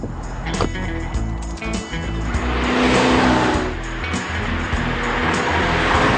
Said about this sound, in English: this Abarth 500 is huge amounts of fun. It's fast, it's pointy, and that exhaust sounds fantastic